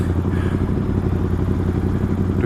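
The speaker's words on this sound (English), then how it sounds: "Nice sounding bike as well." A motorcycle engine runs steadily nearby with a loud, even, rumbling drone and faint mechanical clatter throughout, and nobody talks.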